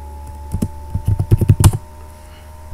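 Keystrokes on a computer keyboard typing out a library name, a quick burst of about a dozen close clicks over roughly a second and a half against a faint steady hum, with no talking.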